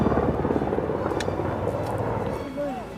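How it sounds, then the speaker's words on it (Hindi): Helicopter flying over the Amarnath Yatra Baltal route in the mountains, a steady distant rotor drone beneath someone talking and trail sounds. "हेलीकॉप्टर सेवा भी चालू हो चुकी है"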